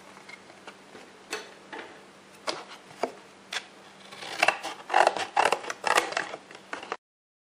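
Scissors cutting around a cardboard box for a hair-bow project, a series of crisp snips and scrapes close by, sparse at first and then quickening into dense clusters before stopping.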